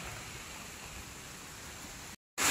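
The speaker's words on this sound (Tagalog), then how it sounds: "Yan ang bagyo." Heavy rain driven by typhoon winds in a coconut-tree rural area, a dense, steady roar of noise that cuts out abruptly for a moment before resuming.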